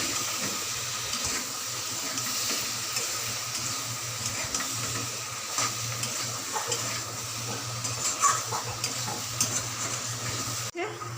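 Taro and potato pieces for a curry fry and stir in a pan, giving a steady, close sizzle with occasional scraping of a spoon throughout, no talk.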